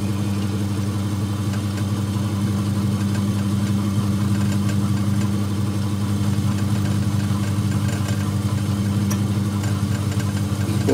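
Smarty AT-300 lathe drilling hard with the tailstock: a steady, even mechanical hum and whir that runs unbroken and fairly loud throughout, with no speech.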